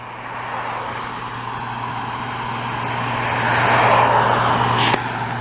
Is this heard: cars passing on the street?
yes